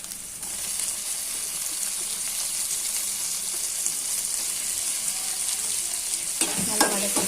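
Chopped tomatoes sizzling in a pan with ginger garlic paste for egg curry, a steady moderate frying hiss with stirring that lasts throughout, growing busier near the end.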